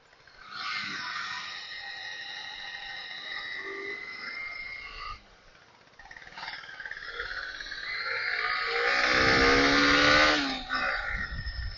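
Heavy road traffic with cars and motorcycles: loud droning engines and a long rising rev swelling near the end, with a brief lull midway.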